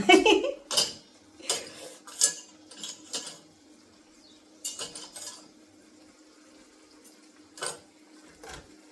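A metal spoon scoops spices in a home kitchen, making repeated bright clinks and clatters against containers in uneven bursts over a faint steady hum, close and fairly loud.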